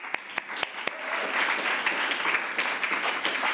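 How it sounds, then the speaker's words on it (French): An audience at an Oscar Days roundtable in Paris applauds. A few isolated claps open, then building into a steady, moderately faint round of clapping. "On applaudit."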